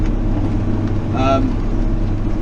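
A baler driven through a harvest field, its engine giving a continuous low mechanical rumble heard from the cab, with a voice briefly speaking over it.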